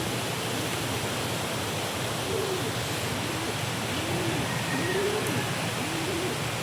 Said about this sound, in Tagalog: Ito na mga ibon.